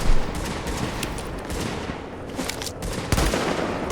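Busy gunfire in the Dark Zone of The Division video game, a steady crackle of overlapping shots with a few sharper cracks standing out, fairly loud and continuous throughout.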